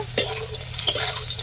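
Fish, koi for a curry, sizzles in hot oil in a pan; a bright hissing crackle runs under two short scrapes of a stirring utensil.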